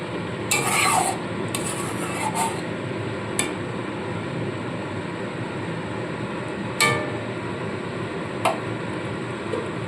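Potatoes being stirred in a pan of bhola fish curry with onion stalks, a steady scraping and rubbing with a few sharper clinks of the spoon against the pan.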